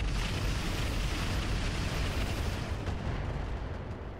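Weapons fire in the mech game Roguetech: a sustained, dense roar of cannon and missile fire, loud and continuous with heavy low rumble, thinning slightly toward the end, with no talking.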